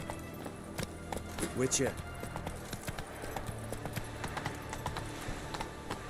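Hooves of a horse clip-clop at a gallop in The Witcher video game, a quick steady rhythm heard up close, with a brief shout and scattered voices over it.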